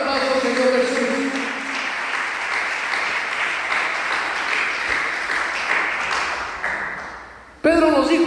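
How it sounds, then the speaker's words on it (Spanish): Loud congregational applause for the Lord Jesus during a Spanish-language church sermon, a broad wash of clapping that holds steady, dips briefly near the end, then gives way to a voice speaking. "Denle ese fuerte aplauso al Señor Jesús."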